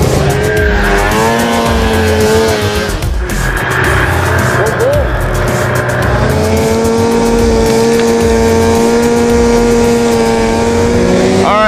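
A snowmobile engine roars loud and close during riding, jumps and wheelies, its pitch climbing and dipping as the throttle opens and eases off, with a voice talking briefly over the steady motor noise.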